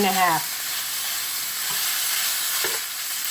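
Ground pork sizzling steadily in a hot pan, a constant bright frying hiss with a few faint clinks; a short voice is heard at the very start.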